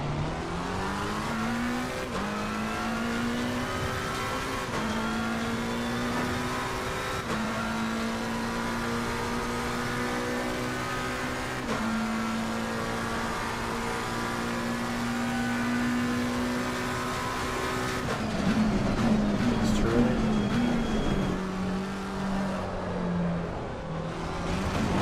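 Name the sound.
race car engine revving in Assetto Corsa Competizione video game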